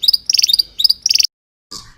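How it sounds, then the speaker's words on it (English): A bird gives quick bursts of short, bright, melodic chirps in two close rapid flurries, a brief pause, then one softer trailing call. "And a tweet is short, melodic noises."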